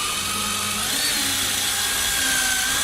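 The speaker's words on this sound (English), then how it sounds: "I'm going to put a screw that's going to go through this female section into this male section from the" A power drill drives a kit screw through the joint of a wall panel, where a female section meets a male section, in one continuous, loud, steady whir.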